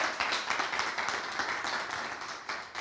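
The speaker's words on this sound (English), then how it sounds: "That's a round of applause. Clap for those things." Church congregation applauding during a sermon, a continuous dense wash of many hands clapping at steady loudness throughout, with no voices over it.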